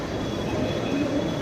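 A Mumbai Metro train rumbles steadily inside a station, a low continuous mechanical drone with a faint high whine, close and even in level for its short duration.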